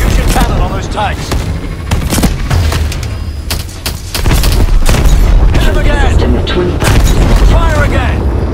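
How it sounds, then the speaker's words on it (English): Tank cannon blasts and explosions in the game Call of Duty: Advanced Warfare, loud repeated booms and crackling gunfire amid battle noise, with shouted voices in between. "Use your cannon on those tanks."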